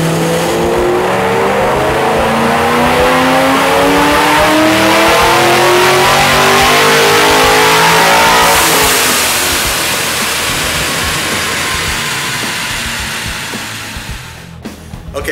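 A loud Vortech-supercharged 5.0L Coyote V8 in a 2011 Ford Mustang revs steadily upward at full throttle on a dynamometer for several seconds, then drops off and winds down, with the pitch sweeping as it climbs.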